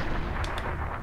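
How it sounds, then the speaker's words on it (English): Recoilless rifle in Mercenaries: Playground of Destruction, a heavy booming blast with rumbling noise filling the short moment, plus a couple of sharp metallic clicks. "Yes, I know how to use a recoilless rifle."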